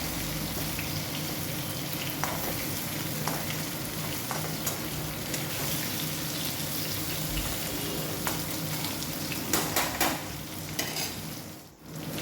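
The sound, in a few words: katla fish pieces frying with onions in a pan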